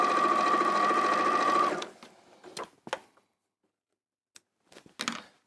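A sewing machine stitches pink fabric triangles onto a quilt block, a steady close whirring run for under two seconds that stops abruptly, followed by quiet handling noises and a few soft clicks.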